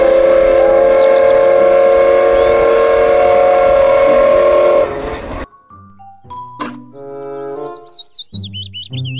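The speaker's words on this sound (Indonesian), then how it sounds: "Kereta Thomas." Toy Thomas train whistle, a loud sustained steam-whistle tone that stops abruptly, then gives way to short electronic chirps and tooting melody bursts, bright and close, with no talking.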